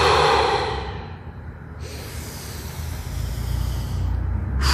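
Long, audible exhalations and breathing during a yoga cat-cow pose, soft airy breath sounds rising and falling over several seconds, close up with no speech.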